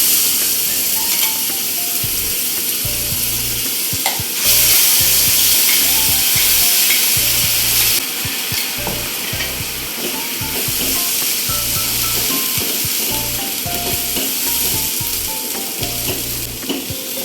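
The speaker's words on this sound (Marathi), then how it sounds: "आता या फोडणी हे जे तयार केलेलं वाटण आहे हे आपण टाकणार आहोत" Ground masala paste fries hard in a hot cumin and turmeric tempering, giving a loud, continuous sizzle and hiss with bursts of steam and occasional spoon scrapes as it is stirred.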